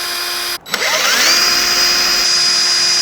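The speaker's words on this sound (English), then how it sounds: "now I'm just gonna drill and countersink a hole." A power drill fitted with a countersink bit bores a hole into a wooden drawer, its motor whining loud and close after a brief stop and restart, then running steadily with a rising pitch sweep as the bit bites.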